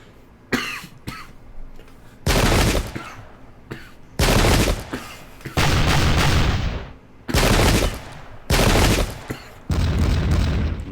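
Heavy guns fire in the video game Pike and Shot, a series of about five loud booming volleys in quick succession. Each is a second or so of crashing noise, separated by quieter gaps with fainter scattered shots.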